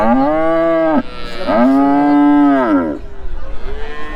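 A dairy cow at a cattle market moos loudly and close, two long drawn-out lows followed by a softer, shorter one.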